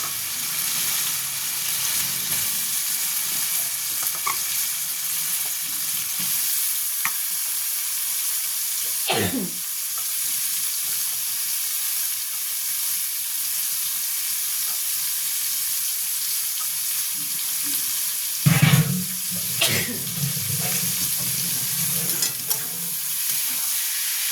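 Chicken with spices sizzles in a hot pan, a steady loud frying hiss throughout, broken by a couple of sharp flare-ups as pieces are stirred or dropped in.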